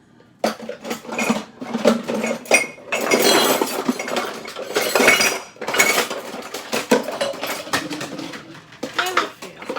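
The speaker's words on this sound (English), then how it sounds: "wash my other blender and see if we can get it to get better that way" Blender parts and dishes are washed by hand, giving repeated close clinks and clatters of glass and metal with running-water noise, plus faint birdsong in the background.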